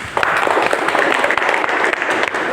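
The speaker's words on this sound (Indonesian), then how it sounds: "Ya, aplaus untuk Ayu" Applause for a student named Ayu during a classroom lesson: a short burst of steady, close clapping from a group, with faint voices mixed in.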